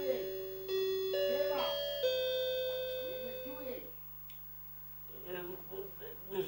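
An electronic doorbell at a house plays a sustained melodic chime for about four seconds, fairly loud and close, before voices break in and talk over the fading room.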